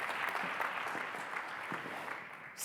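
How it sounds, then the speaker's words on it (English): Audience applause fills a conference plenary session, a steady, moderately loud wash of clapping from a crowd that holds evenly for a few seconds. "Let's give her another round of applause."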